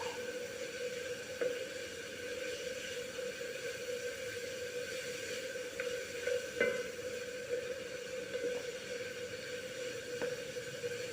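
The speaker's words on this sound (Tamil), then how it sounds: "நல்லா பாவைக்காய் எண்ணெயில் வதங்கணும்." Bitter gourd slices frying in oil with onions for a bitter melon stir-fry, giving a steady low sizzle throughout with occasional soft scrapes and clicks of stirring, fairly quiet and without any talk.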